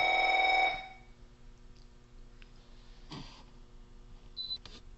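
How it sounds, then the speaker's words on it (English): A telephone rings loudly for a brief burst at the start, then cuts off, leaving quiet room noise with a few faint clicks and a short beep. "I was interrupted by a phone call."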